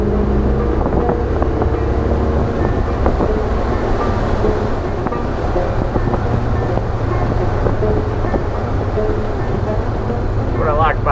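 A 1964 Rambler with a small-block Chevy 350 V8 driving on the road, a steady engine drone under heavy wind rush, with a voice talking over it.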